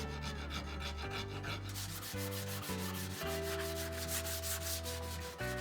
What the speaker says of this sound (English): I use a rasp and some sandpaper to shape the handle to my liking.